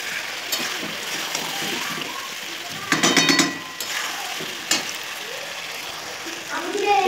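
Bottle gourd and potato chunks sauté in a pan over a high flame, giving a steady low sizzle with a few brief clatters of stirring.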